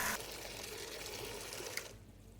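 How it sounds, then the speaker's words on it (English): Water pours steadily into a bucket for car washing with a continuous rushing gush, then suddenly cuts off near the end. "First, we fill one bucket with just regular water."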